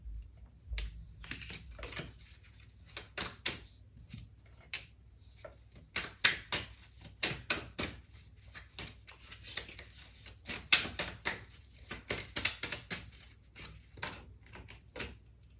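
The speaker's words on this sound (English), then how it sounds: "And I'm just beginning to shuffle your cards again." Tarot cards being shuffled by hand, a run of crisp riffling and slapping bursts in an irregular rhythm, close and fairly quiet against a still background.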